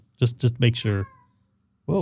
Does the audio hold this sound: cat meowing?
yes